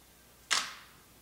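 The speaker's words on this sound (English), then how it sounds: "I release the shutter, it takes the shot." A single camera shutter fires on a long-exposure shot, one sharp, close click that fades quickly into quiet room tone.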